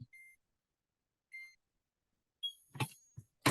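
A 360 IQ heat press gives short, soft electronic beeps, two spaced tones followed by a third, then a few faint clicks and handling noises, with no talk.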